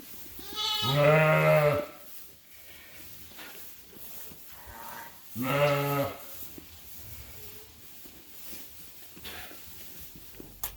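Lambs and ewes in a large sheep pen let out two loud, drawn-out bleats several seconds apart. Quieter stirring and shuffling of the flock fills the gaps between them.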